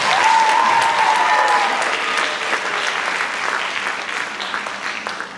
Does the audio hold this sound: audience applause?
yes